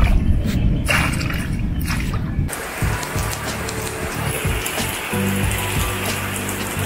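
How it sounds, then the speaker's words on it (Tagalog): Steady rain patters and drips on a surface, a dense wash of droplets, with some low rumbling noise underneath and no talking. "Ito naman yung pag nag-uulan lang"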